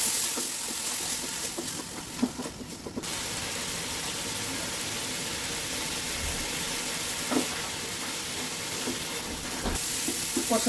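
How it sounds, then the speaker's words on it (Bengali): Mung dal sautéing in a pot for beef khichuri, a steady soft sizzle and hiss with occasional faint stirring clinks, no talking. "মুগ ডালটা আমি আগে দিয়ে একটু কষিয়ে নিব"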